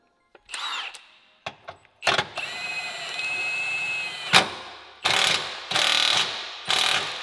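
Power tool tightening a nut during a short shifter install on a GR Corolla: a few brief whirs and clicks, then a long high-pitched drill whine, followed by three loud ratcheting bursts, close and clear.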